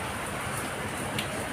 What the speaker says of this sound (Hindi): देखो फिर से बारिश हो रही है।